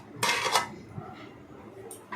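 Mutton biryani is turned in a pot with a metal spoon: a short burst of loud scraping and clanking up close, then softer scattered knocks and one brief scrape at the end.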